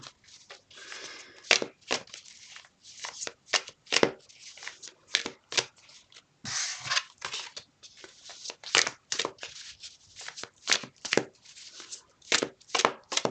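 Tarot cards are shuffled close by in repeated quick bursts, crisp riffling and slapping strokes with brief pauses between them, mostly alone without talk.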